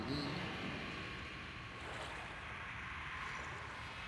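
Faint sloshing of wading through water in the Outlast horror video game, a soft continuous wash of splashing and swirling noise with no distinct steps, alone and fairly quiet.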